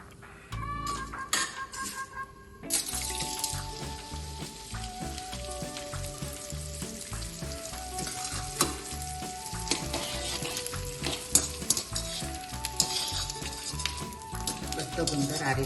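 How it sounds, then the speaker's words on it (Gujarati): Pieces of edible gum puff and sizzle in hot ghee while making traditional adadiya pak, a busy, close crackle that swells after a quieter start, with tonal sounds running over it and occasional clinks of a spoon. "બધો ગુંદર આ રીતે આપણે તળી લઈશું"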